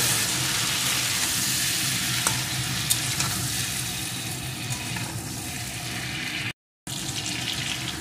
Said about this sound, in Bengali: এখন ভেন্ডিগুলোকে দিয়ে একটু ভেজে নেব।